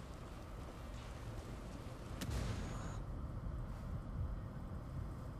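Frag grenade blast in the video game Ghost Recon Wildlands, a sudden burst over steady low rumbling game noise, followed by a sustained louder wash of debris and ambience.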